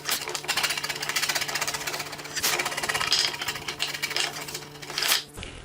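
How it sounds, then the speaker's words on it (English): A sharp chisel pares the bottom of a wooden notch for a sawhorse leg, giving a rapid, continuous rattling scrape with a few louder strokes, close and steady. "then use a sharp chisel to flatten out the bottom of the notch"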